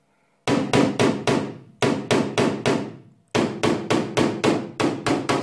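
A small hammer taps out a car dent in quick bursts of four or five sharp, ringing strikes on sheet metal, separated by brief pauses, close and clear.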